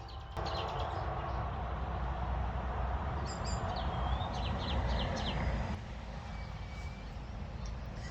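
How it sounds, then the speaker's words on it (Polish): Birds chirp and sing in short bursts on a May morning at a parking lot, over a low, constant background hum outdoors, fairly faint and distant. "ale słyszycie te ptaki?"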